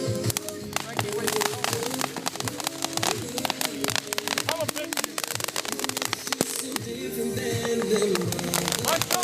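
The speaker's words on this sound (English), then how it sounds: "Have to get their little firework going on over there." Fourth of July fireworks crackle and pop nearby in rapid irregular bursts, and people talk and music plays underneath throughout.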